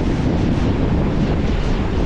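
Typhoon-driven ocean waves crash in a constant, loud broadband roar, with heavy wind buffeting the microphone throughout and no clear voices.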